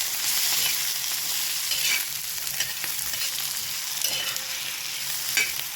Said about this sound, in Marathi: लसूण टाकून पण आपल्याला चांगलं तळसून घ्यायचं आहे